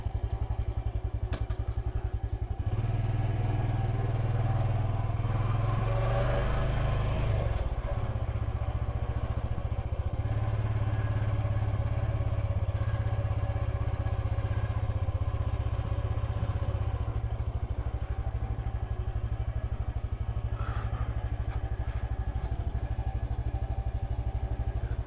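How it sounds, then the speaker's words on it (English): A motorbike engine runs steadily near a temple in Phitsanulok, Thailand, with a loud low rumble and some clattering that lasts throughout, and no talk. "let's get this thing fired back up"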